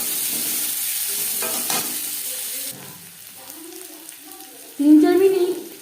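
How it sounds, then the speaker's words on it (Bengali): Chopped onions fry with whole cumin and green chillies in a pan, a soft sizzle under clinks and scrapes of a spatula as they are stirred, with brief quiet speech. "3-4 মিনিট পেঁয়াজ নাড়াচাড়া করে নেওয়ার পর"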